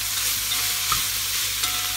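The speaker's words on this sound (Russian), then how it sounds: "И все это я сейчас жарю" Greens, green onion, zucchini and carrot frying in a pan, giving a steady, even sizzle throughout with a couple of faint clicks of stirring and no talk.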